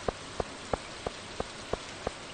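Steady rain hisses in the Stardew Valley farming game, a soft, even wash broken by regular light drip ticks, with no voices over it.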